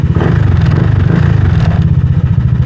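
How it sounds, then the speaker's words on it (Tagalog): A Honda scooter engine idles after a smart key start, a loud, steady, close low rumble with fast even pulsing and a light mechanical clatter, with no voices. "Buhay si motor."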